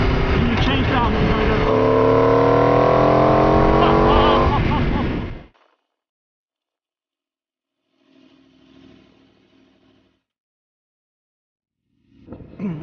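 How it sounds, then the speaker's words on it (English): An Aprilia V4 motorcycle on a freeway roars loudly through a downshift and acceleration, rising in pitch, then cuts off into near silence with faint distant traffic before the engine returns briefly. "a bike like this with V4, is on the freeway you have a look, make sure it's all clear, and you change down and"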